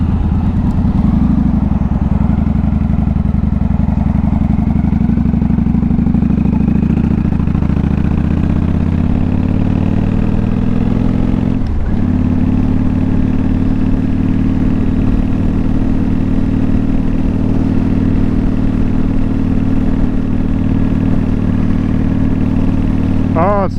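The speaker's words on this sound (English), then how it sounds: "Off we go, headed to the shop on the Victory Vegas." A Victory Vegas motorcycle cruises along with a steady, close, low engine drone that shifts pitch briefly midway, the rider's voice faintly audible over the running motor.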